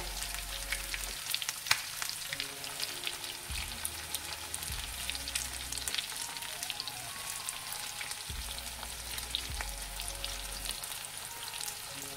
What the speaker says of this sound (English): Put the chicken in the pot with hot oil.